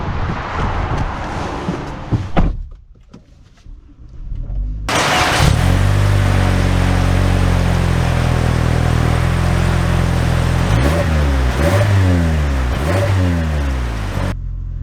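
A 2024 Toyota Camry with its base four-cylinder engine starts up and drives off, the engine note rising loud and steady with clear revving shifts near the end after a brief quiet stretch.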